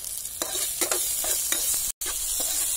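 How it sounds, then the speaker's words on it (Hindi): Tomato with turmeric and salt sizzles in a pan for suji upma. A spoon scrapes and stirs in a quick, regular rhythm over a constant frying hiss, close up, with a very brief dropout near the end. "अब मैं इसमें थोड़ी सी हल्दी, हाफ स्पून, स्वाद अनुसार नमक, इसे अच्छे से भून लें"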